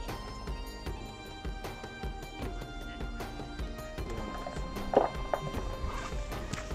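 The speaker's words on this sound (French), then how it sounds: "il y a un cheval qui s'est barré" A runaway horse on the Kyrgyz steppe moves with faint, uneven hoof clops and scuffs under steady outdoor background noise, without speech.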